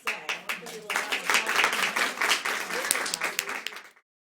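At a women's panel discussion, the audience breaks into a round of applause: scattered claps build quickly into a dense, moderately loud patter that fades out after about four seconds.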